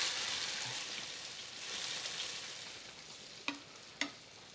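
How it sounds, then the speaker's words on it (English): Tomato and eggplant sauce with pasta sizzles and bubbles in a pan while being stirred, a soft steady frying hiss broken near the end by two sharp knocks of a utensil against the pan. "Let's give it a stir."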